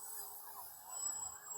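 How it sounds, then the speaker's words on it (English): Emergency vehicle sirens wail faintly in the distance, their pitch sweeping up and down steadily behind light background noise. "Sorry about the sirens in the background."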